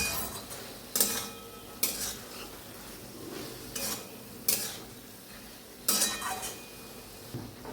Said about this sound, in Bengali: দেখো আচারে দিয়ে নেড়ে দিচ্ছি